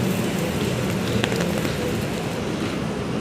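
Steady rain falls outside a shopping area in Lucky Chinatown, City Place, a dense continuous hiss of drops on hard surfaces heard up close, with a faint thud or clatter briefly audible partway through.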